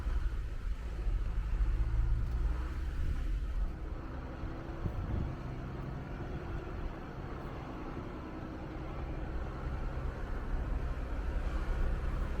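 A rental car rumbles along an off-road Jeep trail in Citrus Wildlife Management Area, a steady low engine and road drone with wind noise over the microphone.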